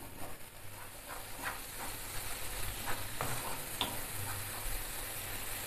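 Barley and other ingredients sizzle steadily in a hot pan, with occasional scraping stirs and soft clicks close by.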